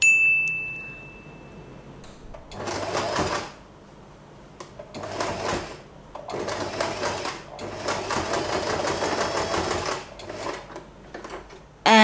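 A sewing machine stitches a fabric scrunchie bracelet in several loud, rapid whirring bursts of one to three seconds, with quiet pauses between them and a faint click at the end.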